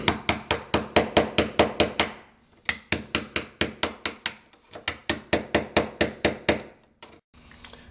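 Hammer blows on a chisel breaking out floor tile over a floor heating system, delivered in fast rhythmic runs of loud, sharp metallic strikes with brief pauses between runs, close and dominant.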